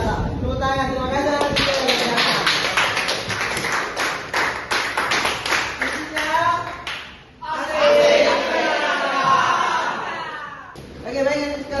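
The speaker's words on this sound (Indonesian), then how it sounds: "Tepuk tangan." Classroom clapping by students, a run of quick, close claps followed by a denser burst of applause, with a teacher's voice talking over much of it.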